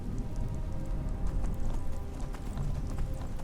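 In the video game Skyrim, a horse-drawn cart clip-clops along with a steady patter of hooves, a continuous rhythmic rumble at moderate volume and no voices.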